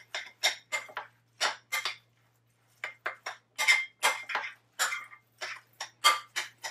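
Cauliflower pizza crust dough being mixed by hand in a bowl, heard as a series of close, soft squishing and tapping bursts in an irregular rhythm with a brief pause midway, no talking.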